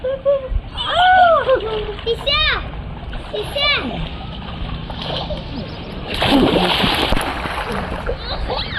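Water splashes as a child is dunked outdoors; a loud splashing burst comes late, amid children talking and calling nearby, with birds faintly audible in the background.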